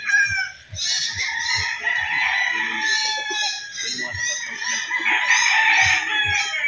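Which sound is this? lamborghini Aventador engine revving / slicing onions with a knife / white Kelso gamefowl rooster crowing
white Kelso gamefowl rooster crowing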